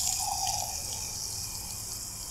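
Tap water running steadily into a container to mix a garden spray for a gallon sprayer, a continuous close hiss of pouring water with no talk.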